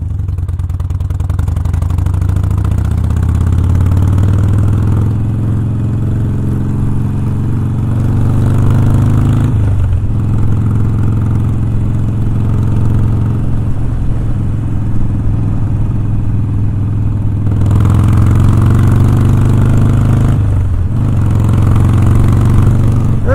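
A Harley motorcycle fitted with drag pipes rumbles loud and steady while riding, its deep engine drone holding under brief dips where the rider shifts gears, no speech over it.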